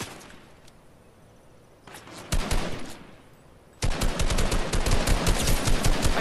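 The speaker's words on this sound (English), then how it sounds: "He's shooting from behind?" Gunfire in the Fortnite video game: distant scattered shots first, then louder bursts, building into sustained rapid automatic fire close up.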